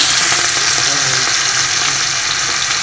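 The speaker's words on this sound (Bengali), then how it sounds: "এর মধ্যে পেঁয়াজটা ছেড়ে দিচ্ছি।" Chopped onion dropped into hot oil already holding fried whole spices sizzles loudly and evenly in a dense, continuous close hiss throughout.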